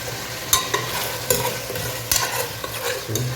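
Boiled chicken pieces frying in hot oil for a homestyle chicken biryani, with a steady sizzle and repeated scraping stirs of a ladle in the pan, close and moderately loud, no talk.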